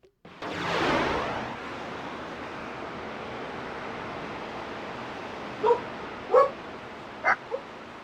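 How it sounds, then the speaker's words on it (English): A pack of dogs barks in the background, a few short, sharp yips standing out near the end over a steady noise bed. "Apparently there is a pack of wild dogs somewhere in the background."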